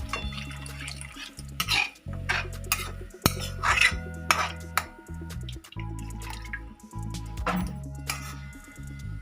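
Water is poured into an egg curry gravy in a pan and stirred, with repeated scraping and metallic clinks of a spoon against the pan in irregular bursts.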